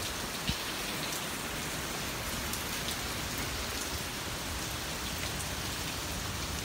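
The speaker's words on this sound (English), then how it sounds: "This is actually the real hurricane." Heavy Hurricane Dorian rain and wind in South Carolina, a dense, steady roar of rainfall that stays loud and unbroken throughout, with a brief sharper tap near the start.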